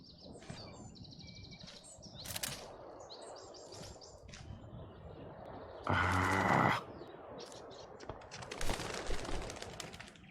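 A bird taking off in Life is Strange: Before the Storm, with fluttering wing flaps amid soft chirps and cooing, plus a dense burst of noise near the middle of a quiet outdoor scene.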